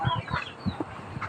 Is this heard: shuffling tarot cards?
no